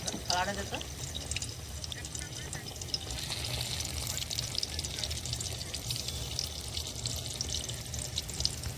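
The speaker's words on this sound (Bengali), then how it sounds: "তেল গরম হয়ে গেছে দিয়ে দিলাম টমেটো ব্যাটারি দিয়ে" Battered tomato chops fry in hot oil for Indian street food, a steady dense sizzle with bubbling that holds throughout, opening with a brief burst as the pieces go in.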